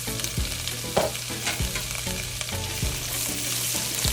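Curry powder, fresh grated turmeric and ginger sizzle loudly in a hot pan while a spoon stirs and knocks against it in a quick, uneven rhythm, close up with no speech.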